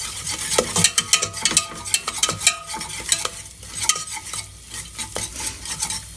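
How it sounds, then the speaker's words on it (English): Flour being stirred in a hot pan to make a roux for lobster mac and cheese, with soft sizzling under close scraping and stirring strokes of a utensil, steady and without voices. "Making a nice roux there."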